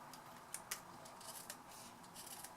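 Scissors snip paper while a tealight wrap is trimmed to size, a few quiet, separate clicking cuts close by with soft rustling between them and no talking.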